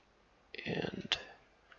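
A computer mouse clicks while working in ZBrush: a quiet, close tap followed by one crisp click, with faint indistinct speech-like sound around it in a quiet room.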